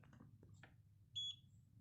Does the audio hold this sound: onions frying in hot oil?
no